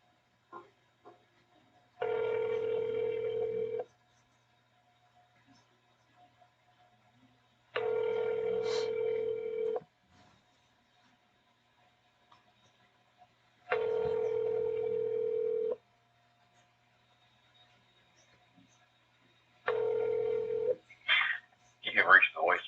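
Four evenly spaced telephone ring tones sound over a phone line during a call transfer to a sheriff's office, each lasting about two seconds with quiet gaps between, followed by a short burst of line noise at the end.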